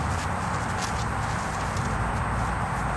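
A saddled horse walks in a training session, its hooves clip-clopping steadily and close by over a constant low background, with no talk.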